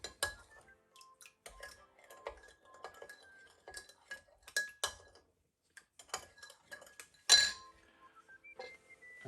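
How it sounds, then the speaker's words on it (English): A spoon stirring corn flour into a sauce, with intermittent light clinks and taps of metal against a dish, some quick rapid scrapes, and one sharper clink near the end, close and fairly quiet. "Slowly mix the corn flour into the sauce."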